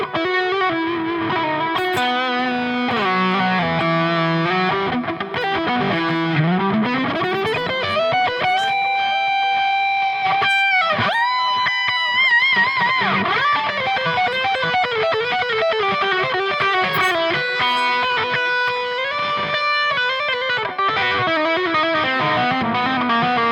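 An electric guitar plays a sustained, singing solo through an Amplitube Tonex pedal with ping pong delay. Notes echo back and forth in repeating delays over a lush reverb tail, bending and gliding up through long phrases.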